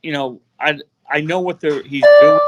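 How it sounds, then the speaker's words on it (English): A phone alarm sounds in the background as a steady high electronic tone during the final half second, starting under ongoing conversation between men on a wrestling podcast. "No, that's my alarm."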